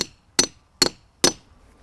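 Three sharp, evenly spaced hammer blows drive a chisel into a tree trunk for grafting, each a crisp close metallic-woody strike followed by quick decay and silence between.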